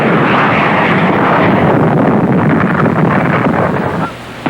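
Military jet aircraft roaring loudly overhead during a tactical air strike, a broad, steady rushing engine noise with wind buffeting that holds for several seconds and then cuts off abruptly.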